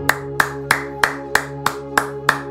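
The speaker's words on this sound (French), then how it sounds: "Applaudissons le roi des rois." A congregation at an evening psalm and prayer service claps in unison, eight sharp, evenly spaced claps over a sustained musical drone.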